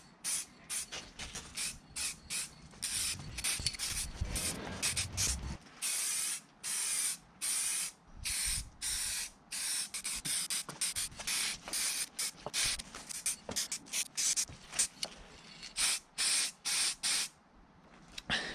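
High-temperature lacquer sprayed from an aerosol can onto car engine bay parts, such as a throttle body on a Mk6 Fiesta: many quick, close hissing bursts in an irregular rhythm, separated by short gaps, with no talking.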